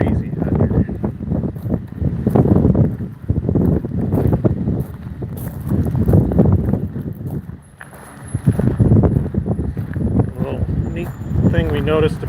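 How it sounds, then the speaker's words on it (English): Wind blows outdoors on a breezy walk along an oyster-shell pathway in Charleston, buffeting the microphone in loud, gusty rumbles that continue throughout as a person talks. "it's going to get a little breezy out here"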